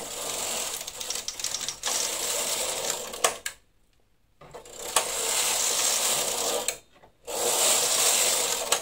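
A Silver Reed knitting machine knits two-colour stitches, its carriage sliding across with a busy rattling, clicking clatter in long passes, broken by two short silent pauses.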